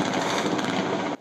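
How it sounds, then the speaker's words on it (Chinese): Dense gunfire rattles during the Han Kuang military exercise, a loud rapid burst of overlapping shots that fills the clip before cutting off sharply at the end. "瞬间枪声大作"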